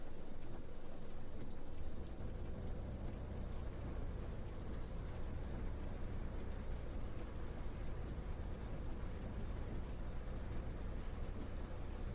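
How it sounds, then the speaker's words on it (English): Steady, dense heavy rain hisses continuously, with a low bus rumble underneath on a motorway and no voices. "That rain is certainly coming down"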